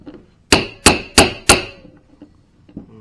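Four sharp, loud hammer whacks land in quick, even succession to bust oil pump parts loose, each a close metallic clang, followed by a few faint clanks.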